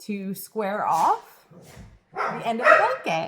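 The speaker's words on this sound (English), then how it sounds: "Please excuse the dogs, they're playing." Dogs playing indoors give short yips and bark-like bursts that are mixed in with and partly masked by someone talking close by.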